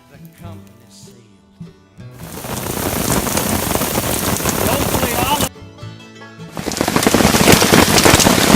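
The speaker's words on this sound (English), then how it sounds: "You can hear the hail pounding on Chad's tarp." Hail pounding on a tarp during a hailstorm, a loud dense rattling roar that cuts in abruptly, stops briefly, then returns even harder, with quieter tonal background sounds in the gaps.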